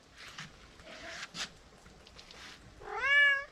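A single clear cat meow near the end, rising and falling with rich harmonics, preceded by faint rustling and light outdoor noise.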